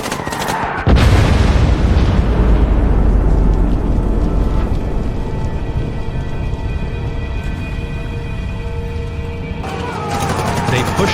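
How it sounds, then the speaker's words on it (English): Dramatized World War II tank cannon fire and explosions pound a ridge: a huge boom after a second rolls into a long, dense rumble with crackling debris and a droning aircraft-like tone, loud and sustained. "Finally in range, Carpenter ordered the tank crew to open fire on the ridge above"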